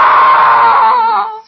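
A woman in a radio drama lets out a loud, sustained scream lasting over a second, close and intense, fading at the end with no other sounds.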